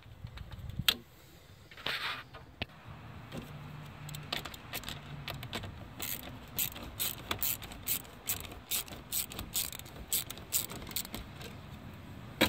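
A ratchet loosens an 8mm bolt on the valve cover of a 2013-2016 Ford Escape 1.6L, giving bursts of quick, close metallic clicks with short pauses and no talking.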